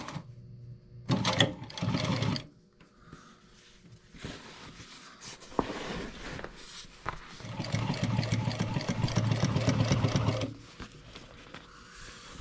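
An electric sewing machine stitches car seat upholstery for a 1959 Chevrolet front seat, running in several bursts of fast, steady whirring with pauses between, close and fairly loud.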